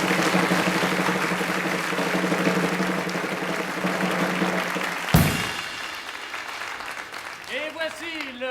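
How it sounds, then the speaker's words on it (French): Audience applause in a large cabaret theatre, a steady dense clapping crowd for about five seconds, then a sharp loud burst after which it thins into quieter scattered clapping as a voice speaks over the end. "Je vous demande de bien vouloir les applaudir."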